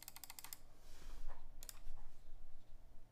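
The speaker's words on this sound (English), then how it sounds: "This is how loud the mouse clicks are at keyboard level." Rapid bursts of computer mouse clicks captured at keyboard level beside a mechanical keyboard, close and crisp, in two quick clusters separated by a quieter gap.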